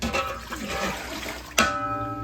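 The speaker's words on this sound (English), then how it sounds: "I put a little bit more than 96 ounces of water in here" Water poured into a pressure cooker, a continuous trickling splash with a sharper gush near the end, close by and moderately loud.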